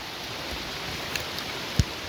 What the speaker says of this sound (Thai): น้ำกำลังไหลนะครับฝนตกน้ำพึ่งลงมา